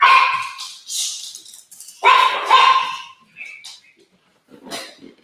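A dog barks and yips in short bursts, close and loud, several sharp barks with whimpering gaps between them, heard in a comedy show setting.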